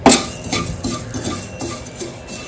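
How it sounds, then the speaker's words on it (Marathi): A spoon stirring dates, sesame seeds and poppy seeds as they dry-roast in a pan, with repeated scraping and light clinks against the metal in an uneven rhythm, close and clear with no talk. "मी इथे भाजून घेत आहे।"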